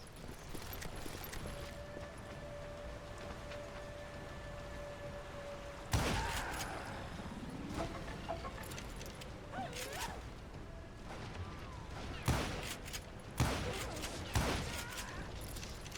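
Scattered gunshots ring out in a video game, a few sharp isolated cracks over a low steady ambience, fairly quiet with faint game sounds in between.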